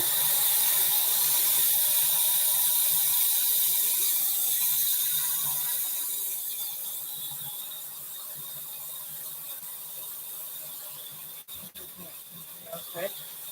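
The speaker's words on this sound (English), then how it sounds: "I'm going to fill this up with water." Tap water runs steadily into a pot for pasta in a home kitchen, a loud, even rushing splash that slowly softens as the pot fills, ending with a few small clinks.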